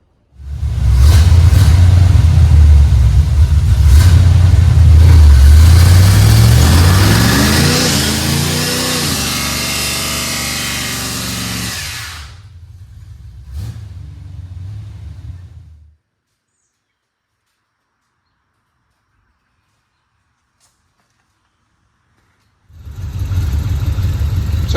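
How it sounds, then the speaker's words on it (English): A 1971 Chevelle Malibu with a 350 V8 does a burnout inside a garage, a loud sustained roar with rising revs and tire squeal that fades out, followed by silence before the engine noise returns. "May have done a burnout in the garage here just for fun."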